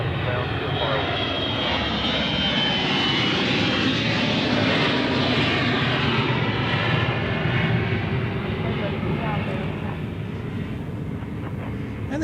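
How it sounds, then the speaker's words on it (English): A Bombardier Global 7500 business jet roars past at an airfield, a loud sustained engine rush that swells and slowly fades, with no talk over it. "I think that was a global 7500"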